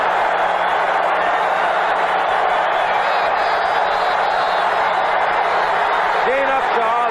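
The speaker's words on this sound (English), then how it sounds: "Very happy crowd as Miami appears to be moving again" A crowd at a 1975 Miami football game against Oakland roars and cheers in a steady wash of noise from a large stadium, with an announcer talking over it throughout.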